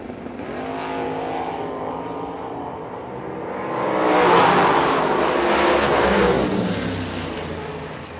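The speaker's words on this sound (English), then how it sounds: "McCarty and the Camaro Roadster, dial to 513." A Camaro Roadster and another car launch side by side at a drag race, a loud, continuous engine roar that swells as the cars accelerate away, heard with no voices over it.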